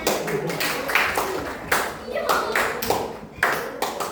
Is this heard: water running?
no